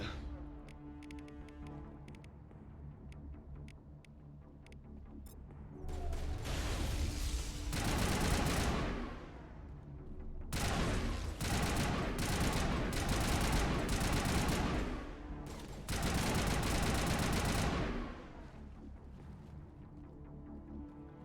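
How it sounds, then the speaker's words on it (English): Gunfire in Mass Effect, with long sustained bursts of rapid shots in several loud stretches separated by short pauses, over a quieter background of game ambience. "We're about to use my gun."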